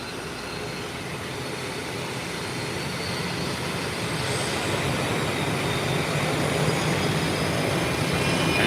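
An Inter-Caribbean ATR turboprop on a short takeoff roll gives a steady broadband engine roar that swells gradually louder, continuous and with no voices over it.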